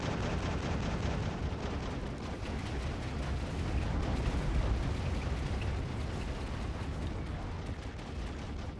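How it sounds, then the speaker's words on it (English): Bombs explode in the Act of Aggression strategy game, landing along a riverbank and merging into a dense, continuous rumbling roar of blasts and crackling that stays loud throughout, with no talk over it. "The bombs hit the bank, but instead of going in a straight line, they all hit the top of the bank"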